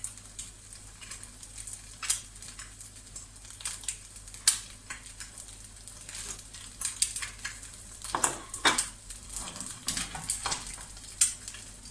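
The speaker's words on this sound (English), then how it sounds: "So all our white's cooked and the yolk is just cooking" An egg frying in a pan over moderate heat, with irregular crackles and pops scattered across a quiet background, faint and close.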